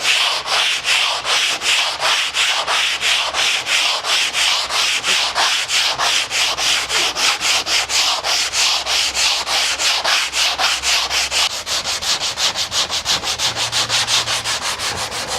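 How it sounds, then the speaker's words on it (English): A soft sander worked by hand across a curved surface gives a loud, steady back-and-forth rasp of sandpaper, with fast regular strokes that continue for the whole stretch, close by and with no voices. "you have the curvature that you need to sand across that area."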